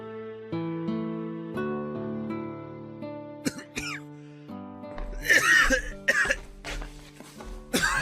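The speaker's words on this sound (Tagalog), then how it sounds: "Mukhang masama na yung ubo mo ah." Several sharp coughs burst out one after another, close and harsh, followed by throat clearing and a few breathy, strained sounds.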